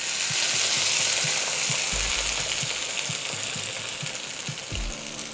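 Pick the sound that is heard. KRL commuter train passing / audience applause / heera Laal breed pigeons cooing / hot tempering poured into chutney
hot tempering poured into chutney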